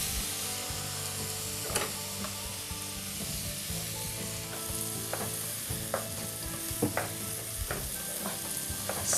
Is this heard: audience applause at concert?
no